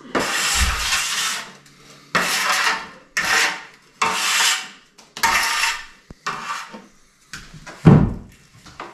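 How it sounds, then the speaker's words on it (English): Plaster scraped off a straight edge while plastering a brick wall, a series of about eight rough rasping strokes separated by short pauses, close and fairly loud, with no talking. "I'm just scraping off the plaster from the straight edge here"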